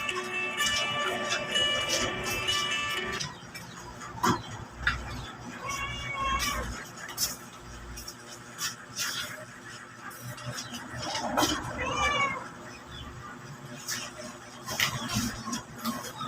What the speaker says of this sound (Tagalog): Bakit may pusa dito sa loob ng bahay mo, kuya?